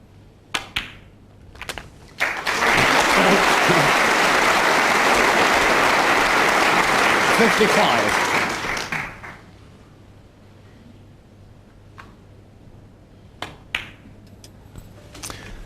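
Loud, steady applause from the crowd at the 2007 World Snooker Championship quarter-final between Shaun Murphy and Matthew Stevens, rising sharply and holding for about six seconds before dying away to a quiet hall with scattered small knocks.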